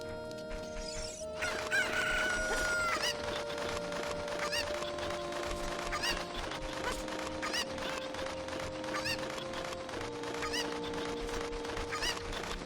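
Cuckoo chickens in The Legend of Zelda: Ocarina of Time cluck and crow repeatedly over steady game music, a busy chorus of short squawks continuing throughout.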